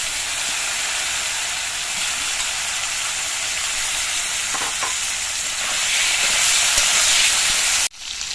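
Taro pieces frying in oil in a pan with black cumin and slit green chillies for a Bangladeshi-style hilsa curry, a steady loud sizzle with light stirring scrapes, briefly cutting out near the end.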